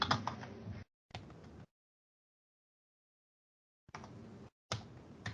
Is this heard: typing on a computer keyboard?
yes